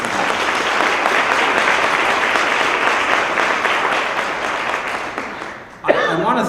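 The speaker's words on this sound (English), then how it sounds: "we should all give them a round of applause to thank them for that" Steady applause from a large audience fills the room, loud and continuous, then fades out as a voice begins speaking.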